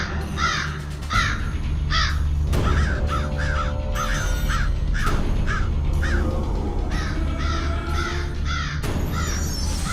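Crows calling repeatedly in Pangasinan, loud harsh caws in quick bursts and rhythmic series, close by over a low background hum.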